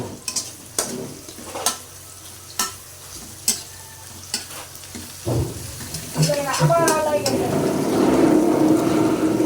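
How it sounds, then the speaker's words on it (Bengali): Onions frying in a pan for a chicken and new potato curry, a steady sizzle growing louder after a series of sharp utensil knocks, with stirring scrapes near and close. "তো আমার পেঁয়াজ প্রায় ভাজা হয়ে গেছে"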